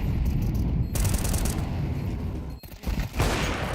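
Gunfire in Counter-Strike 2 during a professional match at the PGL Copenhagen 2024 Major: a loud, rapid burst of shots followed by a short gap and further shots, harsh and close, with a faint voice in the background.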